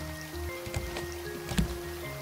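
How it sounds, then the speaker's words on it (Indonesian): Water poured from a bottle onto soil in the Raft survival game, a soft wet trickling and splashing with a couple of brighter splashes over a steady low hum, no talking. "kita langsung disiram ya kita akan langsung nyiram nyiram dulu"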